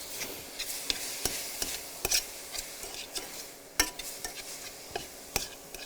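Ground lamb cooking in a pan, a soft steady sizzle with frequent sharp clicks of a utensil stirring and scraping, fairly close.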